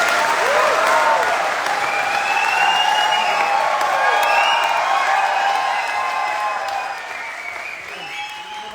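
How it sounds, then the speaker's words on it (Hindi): A large crowd at a live Vestige success event claps loudly, with whistles and whoops cutting through the sustained applause before it gradually fades toward the end. "जोरदार तालियां विनायक के लिए होनी चाहिए।"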